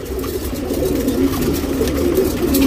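A three-year-old female tournament pigeon in Bangalore coos in a close, steady, low murmur that runs unbroken throughout, with no other voices.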